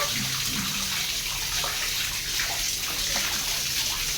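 Water splashes and runs steadily in a tub while Leo bathes, a continuous close wash of bubbling and sloshing with no pauses.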